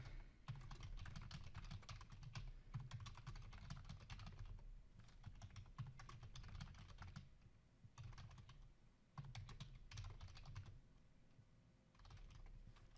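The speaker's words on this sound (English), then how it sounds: "as I'm typing this case statement" Steady typing on a computer keyboard, a quiet continuous patter of keystrokes with brief pauses, close and soft.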